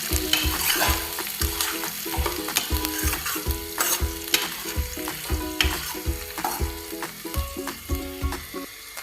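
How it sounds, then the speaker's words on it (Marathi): Chopped onion and cumin seeds sizzle in a hot pan while a spoon stirs them, with steady frying hiss broken by repeated scraping knocks against the pan, loud and close. "इथे आपण कांद्याला छान असं 2 ते 3 मिनिटापर्यंत छान परतून घेणार आहोत."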